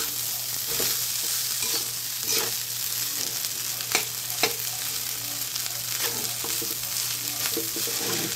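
Adobo stirred in a kawali over sizzling heat, a steady frying hiss with occasional sharp scraping clicks of the utensil against the pan, close and continuous without talk.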